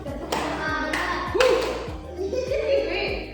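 A class doing a "tepuk semangat" spirit clap: sharp, rhythmic hand claps in a patterned sequence, mixed with voices chanting along in the room.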